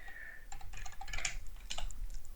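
Rapid clicking keystrokes on a computer keyboard as a Python command is typed, a quick uneven burst of taps, close and fairly clear with no talking.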